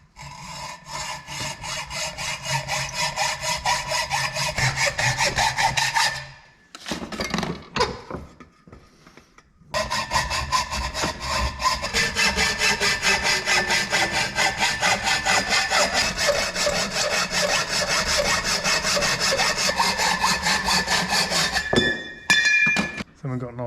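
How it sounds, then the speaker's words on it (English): A blunt hacksaw cuts through a metal turbo pipe with steady, close back-and-forth strokes, pausing briefly twice before resuming its rasping rhythm. "Something to hacksaw around. It's a shame it's a blunt hacksaw."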